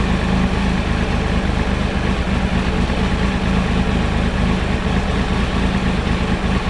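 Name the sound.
Triumph Tiger 955i motorcycle engine idling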